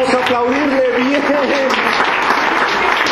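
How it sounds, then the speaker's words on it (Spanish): A church congregation claps together in a steady, continuous wash of applause, with a voice carrying over it throughout. "Y vamos a aplaudirle a Él, vamos a aplaudirle bien."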